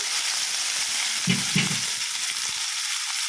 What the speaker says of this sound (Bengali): এই দেখো তেল গরম হয়ে গেছে, উচ্ছেগুলো দিয়ে দিচ্ছি।